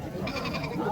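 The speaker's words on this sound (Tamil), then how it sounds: "ஸோ 2 கிடா குட்டிங்க கொண்டு வந்திருக்கேன், செம்மறி குட்டிங்க." Young sheep, a pair of ram lambs raised for rearing, bleat close by at a busy goat market in Natrampalli, with a steady crowd murmur running underneath.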